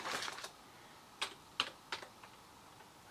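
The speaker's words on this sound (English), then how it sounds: "I will type in a file name like that" Short bursts of quiet keystrokes as a file name is typed on a computer keyboard running RISC OS on a Raspberry Pi, a quick flurry and then a few separate taps, close and soft.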